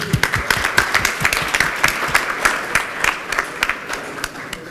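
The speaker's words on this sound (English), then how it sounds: "I think we need a round of applause for them." A conference audience breaks into a dense round of applause at a developer event opening, steady crowded clapping carrying on for several seconds with bright crisp hand claps standing out near the front.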